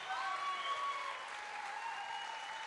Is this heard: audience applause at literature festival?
yes